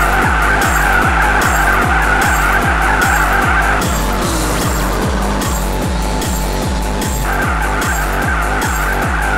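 Car tires squeal and skid continuously in a racing video game, loud and sustained over a steadily pulsing, revving engine drone.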